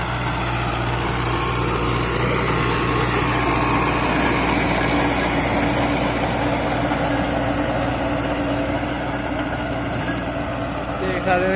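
An Arjun 555 DI tractor engine drones steadily while pulling a 7-foot Shaktiman rotavator through farm soil. The loud, even mechanical hum stays close and continuous for the whole stretch.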